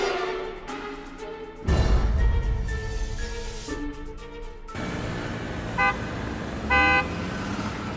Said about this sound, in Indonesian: Klakson Metro Mini terus menyala nyaring seolah menyuarakan ketidaksabaran pengemudinya menyuruh mobilku untuk minggir dari jalannya.